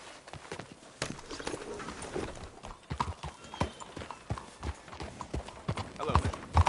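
Horse hooves clip-clopping in Red Dead Redemption 2, a quick uneven run of close hoof strikes with a faint whinny-like tone and soft speech in the background.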